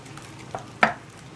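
Peanut butter and lumpy raw honey cookie dough stirred in a bowl for flourless chocolate chip cookies, two short scraping strokes, the second louder, close and alone.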